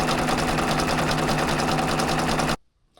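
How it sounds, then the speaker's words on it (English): An embroidery machine stitches a design onto a shirt with a steady, fast mechanical whir and rapid needle chatter, close and continuous for about two and a half seconds before stopping abruptly into near silence. "I'm going to take it to the machine, get a stitch out going"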